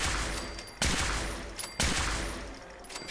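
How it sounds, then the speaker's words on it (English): Gunfire from fights with gunners in Fallout 4 comes as loud sharp shots, one at the start and two more about a second apart, each ringing out and decaying. "Let's gun down some gunners."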